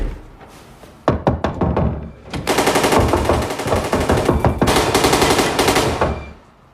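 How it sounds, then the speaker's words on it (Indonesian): Toy gun in a film firing bursts of gunshot sounds: a few sharp separate cracks, then a long dense rattling volley like machine-gun fire that stops abruptly, loud, with no talk. "mainan itu mengeluarkan suara tembakan"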